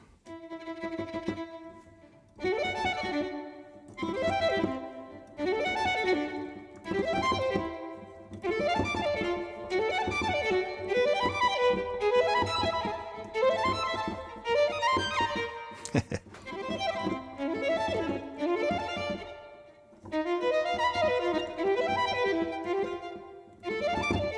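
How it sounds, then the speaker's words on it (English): Soliste Virtuoso solo string instrument played on an Osmose MPE keyboard, bowed back and forth in a series of expressive sustained and swelling phrases with clear pitched harmonics, separated by brief pauses, clean and alone without talk. "Natural sound of the bowed instrument played back and forth mode."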